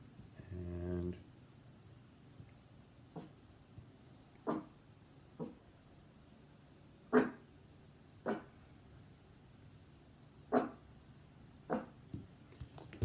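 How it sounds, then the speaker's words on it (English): A dog barks indoors in a kitchen setting, about eight single sharp barks spaced irregularly every second or so, moderately near, with a brief whimpering burst at the start and quiet room tone between. "Sorry, my dog is barking."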